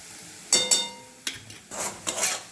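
Chicken mince is cooked over a low flame in a pan, with short scraping and stirring strokes, five or so soft bursts of spatula rasping against the pan, close but quiet.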